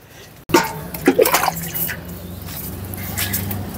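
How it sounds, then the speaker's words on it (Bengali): Water poured onto the soil of a potted rose, a sudden splash followed by gurgling, dripping and trickling as it soaks in, close and fairly loud with faint background voices. "শুধুমাত্র গোড়াতে ভালোভাবে জল দিয়ে দেওয়া যেন জলটি নিচ দিয়ে ভেসে বেরিয়ে যায়"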